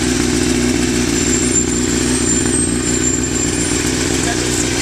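A 2007 Honda CBR1000RR motorcycle with a Micron exhaust runs steadily nearby, a loud continuous engine drone with wind noise and no distinct rev peaks.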